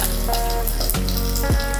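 Curry leaves and a small piece of dry ginger frying in a pan give a soft, steady sizzle, with a few brief crackling bursts in a short stretch under a background tone.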